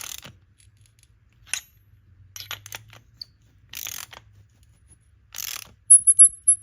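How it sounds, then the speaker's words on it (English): A ratchet on a 19 mm socket tightening the drain plug of a Flashark oil catch can, giving short separated bursts of clicking, close and fairly quiet, in a quiet space with no talk. "I just had a ratchet available, so that's what I'm using."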